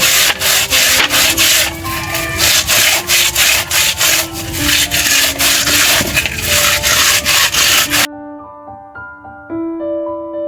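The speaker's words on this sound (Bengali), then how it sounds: "এবার ঘষে নেব তো ভালোভাবে ঘষে নেব" Snakehead fish being rubbed and scrubbed clean by hand, a loud, rhythmic series of rough scraping strokes repeating steadily, then a quieter, softer stretch near the end.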